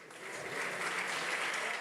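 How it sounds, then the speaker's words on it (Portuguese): Congregation applauding during a church service, a dense, steady wash of clapping hands that fills the whole moment at moderate level with no voices above it. "Vamos aplaudir ao Senhor, gente."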